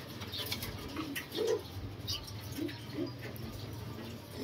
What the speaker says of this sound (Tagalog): Kukunin na natin yung mga ibon natin.